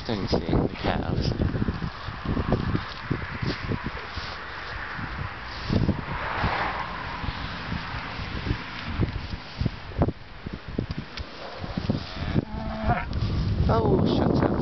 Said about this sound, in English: Interesting seeing the cows.